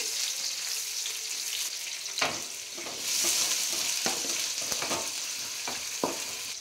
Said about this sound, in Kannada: ಈರುಳ್ಳಿ ಹಾಕಿ ಸಾಫ್ಟ್ ಆಗೋವರೆಗೂ ಫ್ರೈ ಮಾಡ್ಕೊಬೇಕು ಈರುಳ್ಳಿನ